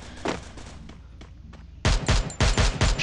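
Gunfire rings out in Garena Free Fire: a few scattered shots first, then four loud, heavy bangs in quick succession, close and punchy, with no talk over them.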